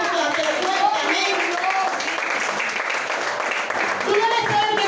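A church congregation claps during a Spanish-language sermon, a dense, sustained patter of many hands throughout, mixed with a voice and tonal background sound.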